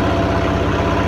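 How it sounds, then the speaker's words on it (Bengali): Steady engine drone of a generator running downstairs, captured through a wireless microphone in normal mode, a loud, even low rumble with a fast throbbing pulse and no talking over it. "নিচে একটা জেনারেটর চলছে, জেনারেটারের সাউন্ড তো প্রচুর হয়"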